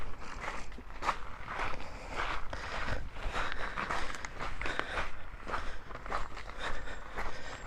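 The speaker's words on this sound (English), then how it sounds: "Sorry about the noise of me crunching across these stones," Footsteps crunch steadily across river stones beside the River Ness in Inverness, a continuous close, rough scraping and crackling rhythm with faint wind and ambient noise underneath.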